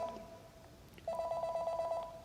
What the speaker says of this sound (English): Guys, sorry, is that a phone?